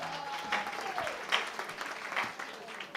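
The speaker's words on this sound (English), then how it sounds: "Give a hand to Mr. Methu." Steady audience applause greets a trainer at a sales and product training session, a dense patter of many hands with some voices mixed in at moderate volume.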